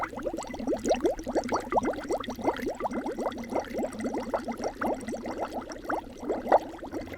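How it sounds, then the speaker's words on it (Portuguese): Air blown through a straw into a glass of water makes continuous, rapid bubbling, a dense run of close gurgling pops with no talk. "o som que você acabou de ouvir sou eu soprando um copo d'água com canudo"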